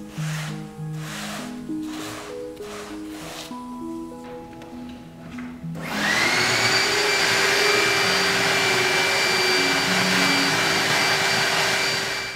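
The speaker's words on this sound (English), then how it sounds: "The reverse of the canvas is then cleaned using a vacuum and a dry cleaning sponge" A vacuum cleaner switches on partway through and runs with a steady, loud whine and hiss while cleaning dust from the reverse of a painting canvas; soft music plays before it starts.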